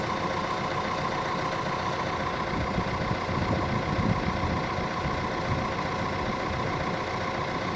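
Steady wind buffets the microphone outdoors beside a bay of large yachts, a continuous low rumbling roar with no pauses and no voices.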